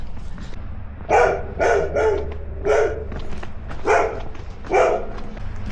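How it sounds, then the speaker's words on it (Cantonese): A dog barks about six times at night on a hiking trail on Lantau Island, Hong Kong, in short, uneven bursts, fairly close and loud, with quiet pauses between barks. "冇搞錯又吠，好彩冇衝出嚟啫"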